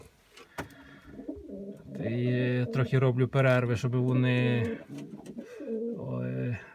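Pigeons at a loft coo in low, throaty rolls, close by, mixing with someone talking in Ukrainian over them.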